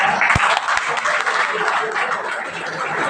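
Audience applause at a farewell day celebration with comedy TV actors, a dense steady wash of clapping throughout with a couple of sharp low thumps early on.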